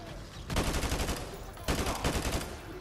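AK rifle fire in the Modern Warfare 2 video game comes as two rapid automatic bursts, dense, fast cracks close by with a rumbling background of battle noise.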